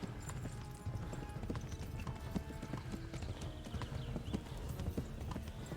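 Galloping hooves of a horse in the video game Kingdom Come: Deliverance drum in a fast, steady rhythm, moderately close and constant, with no talk over them.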